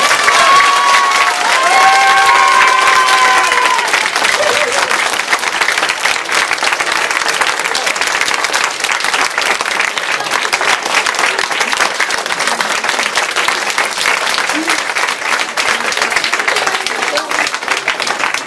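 Audience at a scout hall inauguration breaks into loud, sustained applause with dense clapping and some cheering, after a brief bit of voice at the start, continuing evenly to the end.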